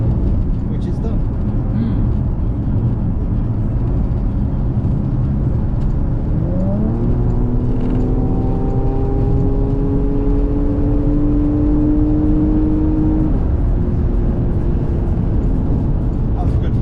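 A car pulls hard under acceleration, its engine tone climbing in a steady rising whine over a loud constant road and wind roar, then easing off as it settles into a cruise.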